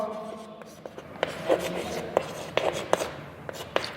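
Chalk or marker writing on a classroom board, with short scratchy strokes and taps in an irregular rhythm under a teacher's quiet speech.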